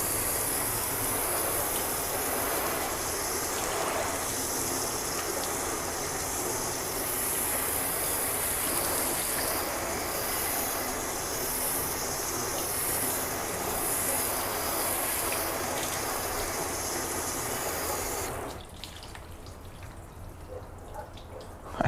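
Steady, loud hiss of a hose rinsing a car after a spray sealant test, water spraying continuously across the panels before cutting off near the end, leaving quieter ambience.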